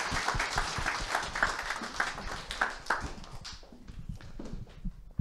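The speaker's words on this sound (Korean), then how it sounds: "큰 박수로 모시겠습니다" A seminar audience at an Atomy company event gives a big round of applause to welcome a lecturer: dense clapping for about three seconds that then thins into scattered claps.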